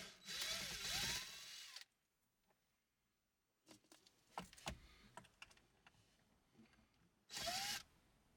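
A powered socket tool spins a bolt in two loud whirring bursts, one at the start and a shorter one near the end, with small clicks and taps of parts being handled in the quiet gap between.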